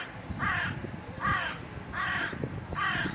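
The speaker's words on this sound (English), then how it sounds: "Hey, birds." Crows caw outdoors in four harsh, evenly spaced calls, each one clear and fairly close, over quiet background rustle.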